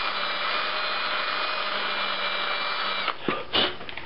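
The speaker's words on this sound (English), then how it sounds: "Just give it a quick little drilling." A power drill bores a rivet hole in a leather sheath, a steady high whine running for three seconds before stuttering and cutting out in a few short bursts as the bit works through.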